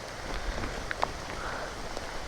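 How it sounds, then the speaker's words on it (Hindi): Heavy rain falling outdoors beside a road, a dense steady patter with a few sharper drops striking close by, continuous and fairly loud with no voices. "अभी मैंने भालूलता जस्ट पार ही किया था कि जोरों से चालू हो गई बारिश।"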